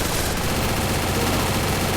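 MP40 submachine gun firing in a video game, a dense, loud, unbroken burst of rapid automatic gunfire lasting a couple of seconds.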